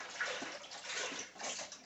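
Liquid pours in a steady splashing stream into a crock pot as the base for chicken soup, a close, continuous gush and gurgle lasting a couple of seconds.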